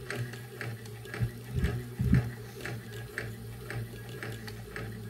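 A Singer 201K sewing machine running fast to wind a full bobbin, giving a steady mechanical whir with a regular ticking rhythm and a few louder thumps near the start, close and alone.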